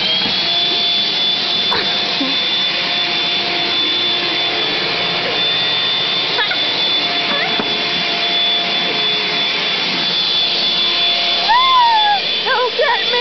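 A household vacuum cleaner runs continuously with a loud, close, steady whining roar and a high-pitched tone on top, while brief voices and squeals come through now and then.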